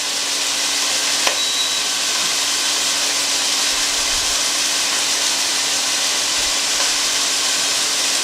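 Pieces of beef for Amish beef and noodles brown in hot oil in a pan, giving a loud, steady, close sizzle that runs the whole time with a single faint click near the start.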